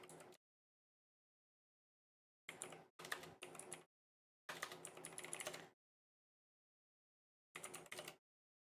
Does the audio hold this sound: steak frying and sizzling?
no